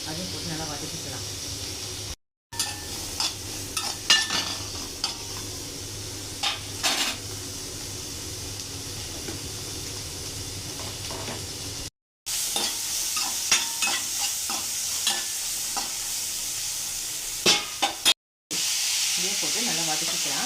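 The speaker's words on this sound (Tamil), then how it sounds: "அதையும் போட்டு நல்லா வதக்கிக்கலாம்" Onion, ginger and garlic sautéing in a pan for butter chicken masala, with a steady sizzle broken by repeated scraping and clinking stirs of a spoon against the metal, while a person talks throughout.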